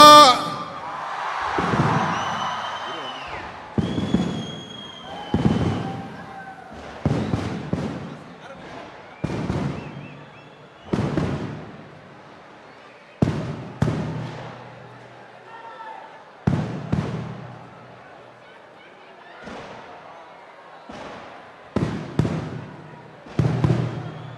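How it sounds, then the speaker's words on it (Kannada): Firecrackers burst outdoors in a series of sharp, separate bangs spread over the span, some louder and nearer, with crowd noise and talk between the blasts. "ಸಿಡಿ ಮದ್ದಿನ ಸೌಂಡ್ ಜೊತೆ"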